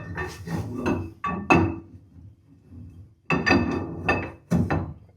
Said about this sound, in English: Axle goes in.